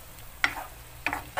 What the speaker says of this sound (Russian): И сейчас, постоянно помешивая наши грибочки